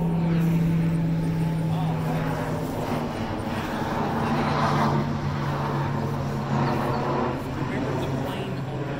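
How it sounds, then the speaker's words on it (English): An old, smoking military air cargo plane flying low overhead, a loud, steady propeller drone with a constant low hum that holds for the whole stretch, with people's voices faintly in the background. "An old military air cargo plane. Smoking like hell."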